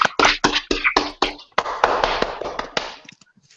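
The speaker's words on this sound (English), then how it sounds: "Please give Tommy a round of applause." A small group applauds a speaker at a fitness talk, a few close, sharp claps at first, then a brief smattering of hands that quickly dies away into quiet.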